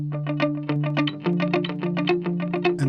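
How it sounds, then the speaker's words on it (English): Ableton ping pong delay effect on a short melodic phrase, notes repeating and bouncing as echoes in a steady rhythmic stream, with a slightly distorted, chorus-like tone and no voices. "You can ping pong the delay."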